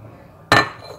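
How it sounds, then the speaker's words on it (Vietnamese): Goby fish dropped into a large bowl give a single sharp clink of contact against the bowl, loud and close, followed by a short ringing tail and quiet room tone. "Các bạn sẽ dùng cho mình một cái tô hoặc là một cái thố lớn. Các bạn cho phần cá bống vào đây."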